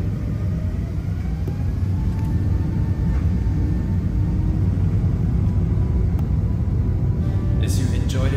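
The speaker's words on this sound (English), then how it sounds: "let's enjoy the takeoff, shall we, as we go on the runway." Singapore Airlines A380 rolling down the runway for takeoff, heard from the cabin as a steady, loud low rumble and engine roar, with faint talk underneath.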